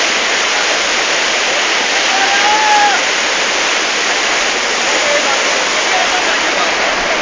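A flooding river at Brima Nala in Udhampur, Jammu and Kashmir, rushes in a loud, continuous roar of turbulent water, steady and close throughout with no pauses.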